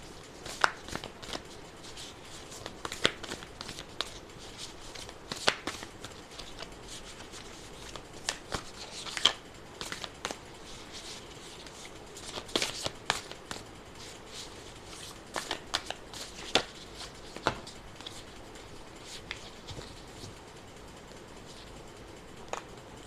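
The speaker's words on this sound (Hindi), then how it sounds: "एक कार्ड अब हम एंजल डेक से निकाल लेते हैं।" An angel oracle card deck being shuffled and a card drawn, giving soft repeated papery rubs, riffles and flicks at close range, quiet and continuous with small sharp peaks.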